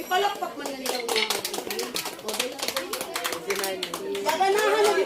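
Kindergarten children clapping at a moving-up ceremony, a close, brisk patter of many small hands in quick uneven bursts, with voices chattering and calling out over it.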